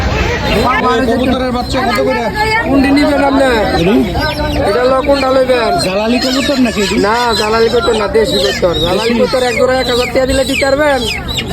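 Loud, close chickens cluck and squawk continuously over a crowded babble of people talking at a busy poultry market in Kaliganj, Gazipur.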